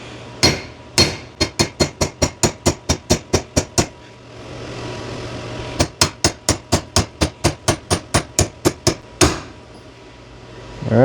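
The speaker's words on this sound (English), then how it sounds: "Let me get a bigger hammer." A hammer strikes a tight bushing on a door hinge during a rebuild of the upper door hinges: loud, close, rapid metallic blows in two long bursts, ending with a single heavier hit.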